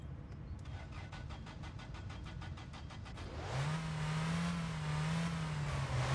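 A car engine in the video game My Winter Car cranks with a rapid rhythmic starter churn, then catches and settles into a steady, fairly quiet idle with a slight rising drone, no voices.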